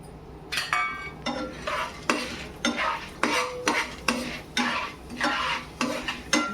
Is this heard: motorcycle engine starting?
no